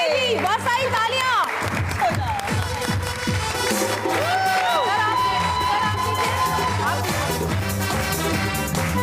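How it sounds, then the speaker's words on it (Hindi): Studio audience applause and cheering on a Satrangi entertainment show, loud and sustained from start to finish, mixed with background music and crowd noise. "आइए जी, बहुत सारी तालियां।"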